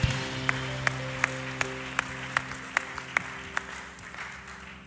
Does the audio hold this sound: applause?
yes